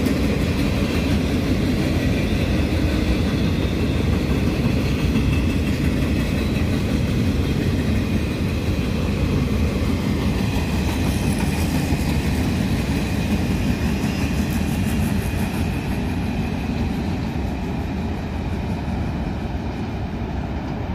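A freight train of empty cars passes close by with a loud, steady rumble and rattle that holds for the full twenty seconds, with no voices.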